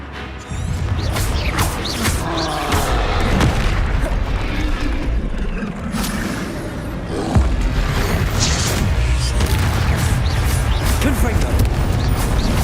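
Blasting-spell explosions in the Hogwarts Legacy video game on PC, a dense continuous barrage of booming blasts and crashes layered over game music, loud and close, with a voice shouting the spell name over them.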